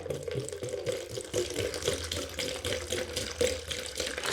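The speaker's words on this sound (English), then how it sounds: "I've got Teresa to fill up the bucket with warm water" A tap runs steadily, filling a bucket with warm water in a steady, close, full rushing splash that carries through without a break.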